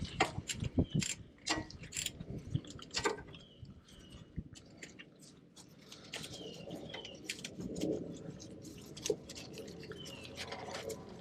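Ratchet loosening a bolt on a 2014 Jeep Wrangler JK wheel speed sensor, bursts of quick close clicking that pause and resume, with birds chirping outdoors in the background.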